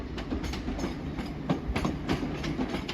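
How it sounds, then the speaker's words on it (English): Parcel train passing through a station in Greater Manchester, with a steady rolling rumble and repeated clickety-clack of wheels over rail joints, moderately close and heard without talk. "Right, we do have the parcel train."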